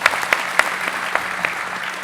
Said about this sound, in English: Another round of applause for our